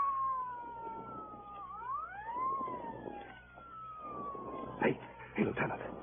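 Police car siren used as a sound effect in a 1949 radio drama, a wailing tone that rises and falls over a background of street noise, followed by short bursts that may be voices.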